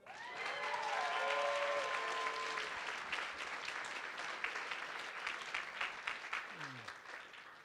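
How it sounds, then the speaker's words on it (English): Wedding reception guests applaud the couple Ryan and Stephanie, a room full of dense, sustained clapping that swells early and then thins into scattered claps, with a few voices and cheers mixed in. "How about one more clap for Ryan and Stephanie?"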